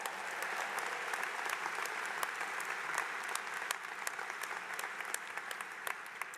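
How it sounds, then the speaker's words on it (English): Sustained applause from a commencement ceremony audience, steady dense clapping throughout at a moderate distance with no talk over it. "Let's have a round of applause for them,"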